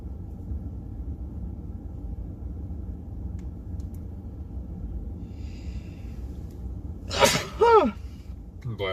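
A single loud, nearby sneeze breaks a quiet stretch of low rumbling background, followed by a brief voice.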